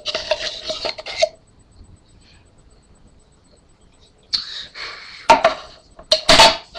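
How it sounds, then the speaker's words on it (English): A spoon scooping baking powder into a red plastic cup, with clinks and scrapes in a burst, then a quiet pause before a second cluster of sharper clatters and taps. "you're gonna open up the baking powder and just like spoonful some in"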